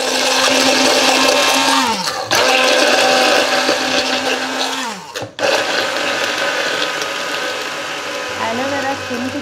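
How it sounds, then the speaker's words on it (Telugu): A mixer grinder jar blends coconut oil and aloe vera, whining loudly and close in a steady drone that drops in pitch and cuts out twice before starting up again. "ఇప్పుడు ఇది ఏంటంటే మనం మిక్సీ జార్లో వేసుకుని మంచిగా బ్లెండ్ చేసేసుకోవాలి"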